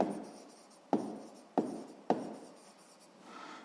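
Pen strokes scratching across paper while working a sixth-grade maths exercise: a quiet, close sequence of brief scribbles with a few sharper taps as each stroke begins, and no voices.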